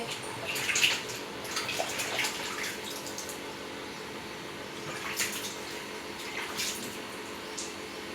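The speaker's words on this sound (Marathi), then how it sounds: "चांगल्या पाण्याने असे हात धुवून घ्यायचे" Hands are washed under running tap water in a kitchen, a continuous close splashing stream with bursts of louder splatter as the hands move through it, and no talking.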